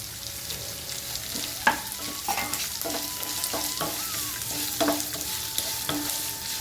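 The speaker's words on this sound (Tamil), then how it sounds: "அந்த வெங்காயம் வதங்கணும், அதுக்காக நான் இப்போவே சேர்த்துறேன்" Onions sautéing in a hot pan for a Tamil ivy gourd rice dish, with a steady close sizzle and repeated scraping stirs of a spoon against the pan at an uneven rhythm, no talking.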